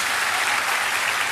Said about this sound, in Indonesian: Tepuk tangan dong biar saya juga semangat.